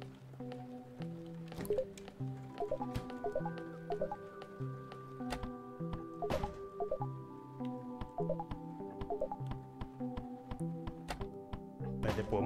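Wet squishing and dripping sounds from the horror video game House, repeated in irregular bursts with soft taps and thunks over a low droning musical background, with no talking.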